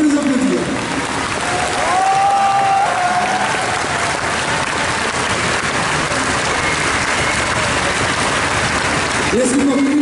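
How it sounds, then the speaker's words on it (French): A large convention crowd at a Final Fantasy panel at Japan Expo 2013 breaks into sustained, dense applause that fills the hall steadily for about nine seconds before tapering off, with a few voices and cheers mixed into the clapping. "on peut les applaudir"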